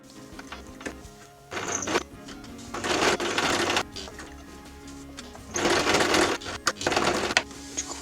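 A sewing machine stitches along the edges of a fabric bandana, running in several close, buzzing bursts separated by short pauses filled with quiet handling sounds.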